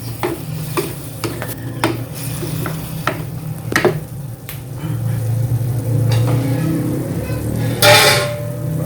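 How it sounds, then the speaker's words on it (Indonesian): Sausages are stirred in a sizzling currywurst sauce made with chicken broth, with repeated close clinks and scrapes of the utensil against the pan over a continuous bubbling sizzle, fairly loud. "kita aduk-aduk terus sampai bumbunya ini meresap ya mas bro ya ke sosisnya"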